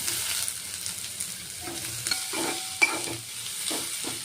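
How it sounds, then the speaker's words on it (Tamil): Garlic, green chili and onion frying in oil for a bread and mushroom snack, a steady close sizzle with scraping stirs and a few sharp utensil clinks, no talking. "பச்சை மிளகாய் போட்டுக்கலாம், வெங்காயம் போட்டுக்கலாம்."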